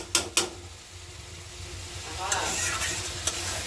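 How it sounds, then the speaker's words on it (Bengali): Spice paste for a fish curry sizzles as it is sautéed in a pan, with steady frying hiss and scraping stirs, opening with two sharp clacks of a utensil against the pan. "দেখছো কত সুন্দর মশলাটা, অনেক সুন্দর কষানো হয়েছে না?"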